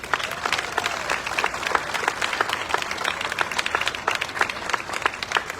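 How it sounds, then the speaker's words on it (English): An audience at the Jackson Apple Festival's Red Coat Club presentation claps for two honourees. The dense, even applause from a crowd fills the whole stretch. "a big round of applause."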